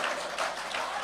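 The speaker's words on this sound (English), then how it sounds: "Keep that round of applause going for Tiana." A crowd applauds a contestant named Tiana at a grand finale competition show, with dense, steady clapping filling the whole brief moment.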